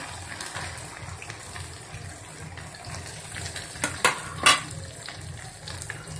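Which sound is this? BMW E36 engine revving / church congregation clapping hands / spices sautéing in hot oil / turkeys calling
spices sautéing in hot oil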